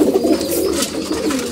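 Pigeons coo steadily, a low soft warbling that rolls on without pause, close and fairly loud with no voices over it.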